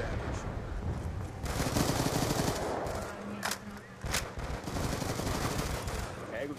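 Gunfire in the shooter game Call of Duty Black Ops, bursts of rapid shots and a couple of sharp single cracks mixed with game noise, moderately loud, with faint voices in the background.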